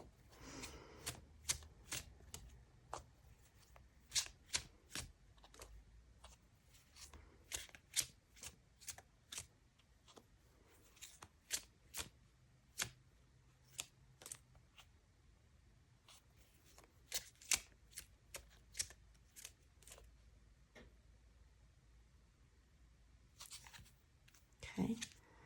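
Tarot cards are shuffled by hand in a long series of crisp riffles and sharp flicks, close and quiet, with irregular pauses between bursts and no talk.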